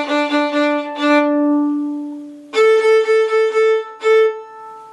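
Violin bowed on an open string in a quick taka-taka-ta-ta rhythm, one short burst on a lower string ending in a held note, then the same pattern repeated on a higher string, close and clear with no talking.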